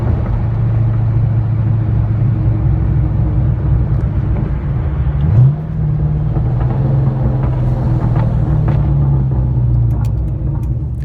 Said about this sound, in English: the Mach 1 by far is my loudest car, SLP Loudmouth Off-Road X